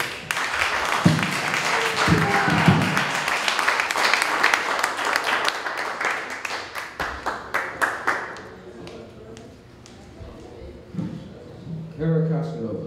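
Rally crowd at an outdoor Ashli Babbitt memorial event in Freeport, Texas applauding loudly for several seconds. The clapping thins into scattered claps, then fades out while murmured voices and talk carry on underneath.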